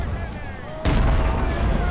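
Cannon fire in the video game Ultimate Admiral: Age of Sail during the Battle of Bunker Hill, a single loud boom cutting in midway over a busy background of game sound.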